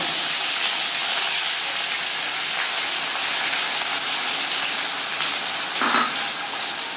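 Onion paste fries in hot oil with cumin seeds for Bengali ghugni, a steady, dense sizzle and hiss with one brief louder spatter near the end.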